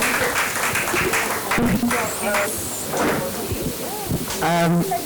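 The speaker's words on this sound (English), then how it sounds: "a big applause for all the panelists here" An audience applauds the panelists at a translation conclave, with scattered clapping running steadily under voices and cheers that rise near the end.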